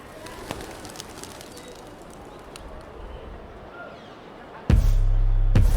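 Pigeons coo softly on a rooftop in Old Delhi amid outdoor ambience, with a few sharp clicks, before a loud steady hum abruptly takes over near the end.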